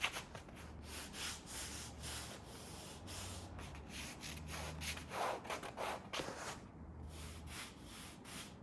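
A hand rubs rough canvas fabric in repeated scratchy strokes, a dry close rasping texture that swells and fades in several bursts with brief pauses between, no voices.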